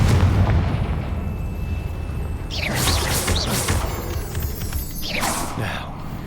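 Confringo blasting spells burst in Hogwarts Legacy, two roaring fiery explosions about two seconds apart over a constant rumbling game background, loud and close.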